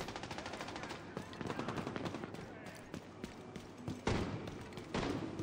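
Distant rapid gunfire from gangs battling in The Division 2 on PC: rattling bursts of automatic fire crackle steadily in the background with scattered heavier thumps, moderately faint and continuous throughout.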